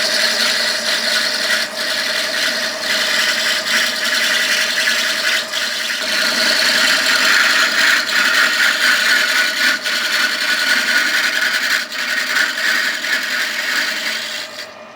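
Nearby, a metal lathe takes a 1 mm cut on a safety valve part with a continuous scraping, hissing cut over a steady whine that dips briefly a few times, with no one talking.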